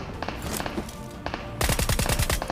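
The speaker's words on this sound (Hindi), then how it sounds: "बट मैं उसको काफ़ी शॉट्स मारता हूँ" Rapid gunfire from a pistol in a battle royale mobile game, a burst of sharp repeated shots that grows louder and denser toward the end over steady game background noise.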